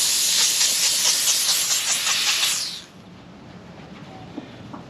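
A steam cleaner hisses loudly and steadily on a car engine bay for a few seconds, then cuts off abruptly, leaving only quiet room tone.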